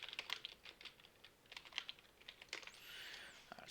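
Computer keyboard keys clicking in quick, uneven bursts up close, with short pauses between runs of typing before launching a Minecraft world.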